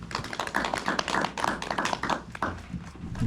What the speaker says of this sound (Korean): 박수 한번 주시면 고맙겠습니다.